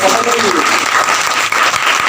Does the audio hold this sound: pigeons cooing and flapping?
no